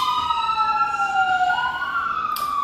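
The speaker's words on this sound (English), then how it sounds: "there seems to be a lot of sirens going past my house tonight" An emergency vehicle siren wails past a house at night, a steady rising and falling tone that stays clear and fairly loud throughout, with no talking.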